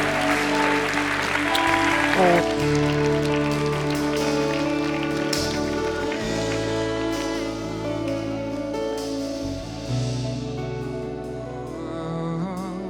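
A church congregation applauds loudly and without pause, the clapping spread evenly like a rain-like wash over sustained keyboard chords from the worship band.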